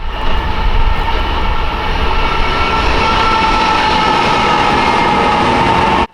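A train passes close by in a loud, continuous roar with rolling rail noise and a steady tonal whine, holding strong for several seconds before cutting off abruptly, recorded on a Sony FDR AX43 camcorder with no voices.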